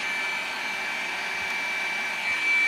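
An IPL hair removal device runs with a steady, loud whirring fan noise and a thin high whine, close by and unbroken for a few seconds with no talking.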